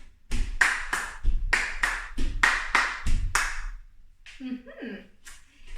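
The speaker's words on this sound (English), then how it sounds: "step right, clap twice" Hand claps in pairs during a dance step demonstration for an exercise routine, several crisp, close claps in a rhythmic pattern, followed by a person talking.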